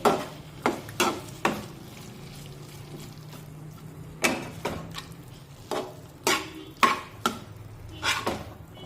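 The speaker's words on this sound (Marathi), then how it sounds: "कढईवरचं आपण झाकण काढूया" A lid comes off a kadai of cooking brinjal in a home kitchen, giving several sharp metallic clanks and scrapes spaced irregularly over a low, steady simmer, close and moderately loud.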